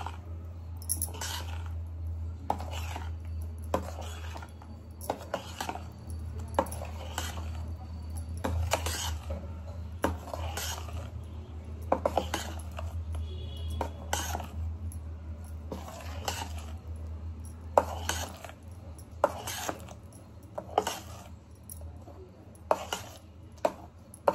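Cake batter with vanilla essence being mixed by hand in a bowl, the utensil knocking the sides in steady, regular clinks about once a second over a low constant hum, with no talking.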